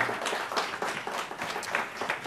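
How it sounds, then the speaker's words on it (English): A gathered audience at a speaking event gives a round of applause, a quiet, even wash of many hands clapping somewhat far off. "Give them a round of applause."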